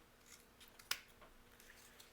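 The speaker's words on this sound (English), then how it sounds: "trim out the front half of the snowman with my scissors" A single sharp scissor snip through paper cuts through a quiet room, faint and close, with soft low rustling around it.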